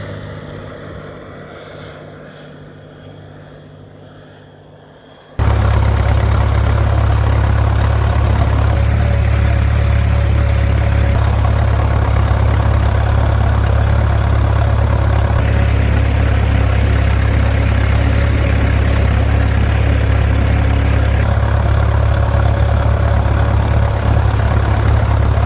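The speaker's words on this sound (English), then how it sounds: "I'm sitting on the tractor waiting to start work on the runway." A quiet, fading tractor engine hum gives way abruptly to a loud, steady low-pitched engine drone that continues unchanged to the end, on an airfield runway.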